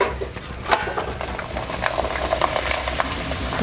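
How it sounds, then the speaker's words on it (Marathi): Papad deep-fry in hot oil with a dense, steady sizzle and crackle, close and continuous with small popping bursts throughout and no voices. "जास्त वेळ पण लागत नाही तळायला पटकन फुलून वरती येतात पापड"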